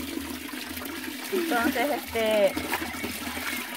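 Water runs in a small channel used for washing clothes, a steady trickling gush heard close by beneath a person speaking.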